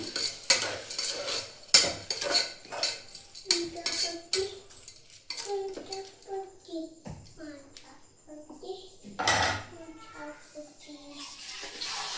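A spoon scrapes and clinks repeatedly against a pot as thick masoor lentils are stirred, close by, with a voice talking over it.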